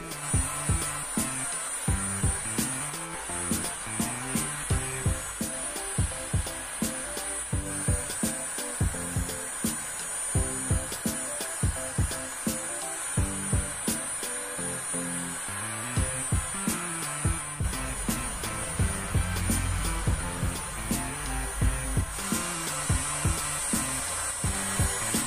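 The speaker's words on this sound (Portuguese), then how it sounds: "para me dobrar as beiradas, eu vou usar um soprador térmico" A heat gun blows with a steady, airy roar while bending the edges of vinyl flooring, broken by irregular tapping and rubbing noises close by. No one speaks.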